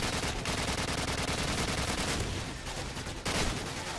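An RPD machine gun fires in Call of Duty 4, with dense, sustained rapid bursts close and loud and only brief breaks between volleys.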